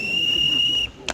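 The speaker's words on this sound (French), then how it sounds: "le coup de sifflet tant redouté intervient" A sharp, steady high whistle blast held for under a second, then cut off, followed by a brief second chirp over faint background murmur.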